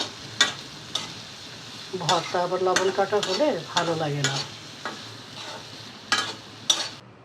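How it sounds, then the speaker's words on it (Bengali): Dried fish (shutki) frying in a pan for a bhorta, stirred with sharp spatula scrapes and clicks over a low sizzle while someone talks. "শুটকিটা ভাজা হয়ে গেছে"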